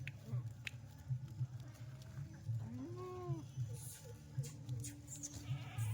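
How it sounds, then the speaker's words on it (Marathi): A single Kathiawadi goat bleats clearly mid-way over a steady low rumble of tethered livestock, with faint background noise throughout. "बघा शेळ्या जेवढं तुम्हाला दावणीला बांधल्या बांधून दाखवल्या सगळ्या शेळ्या"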